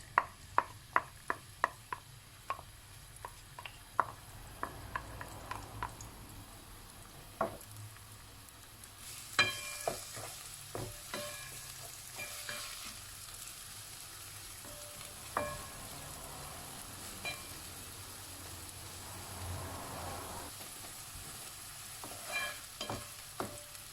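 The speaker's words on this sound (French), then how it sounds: "quand l'huile a chauffé, je vais rajouter les oignons" Onions go into heated olive oil and begin frying. A steady soft sizzle is punctuated by sharp, regular taps of chopping or stirring at first, and the sizzle grows busier with scattered clinks as the pan heats.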